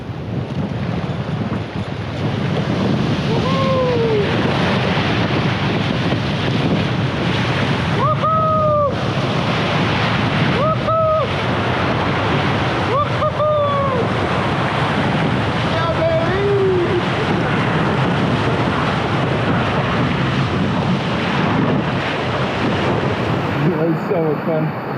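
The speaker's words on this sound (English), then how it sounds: "I'm gonna ride the wave." A small boat rides through big river rapids in the remote Yukon wilderness: a loud, constant roar of rushing whitewater and wind buffeting the microphone, with a few whoops of voice rising over the torrent.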